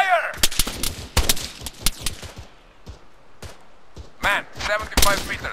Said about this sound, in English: Taking fire! There's an enemy. Machine gunner.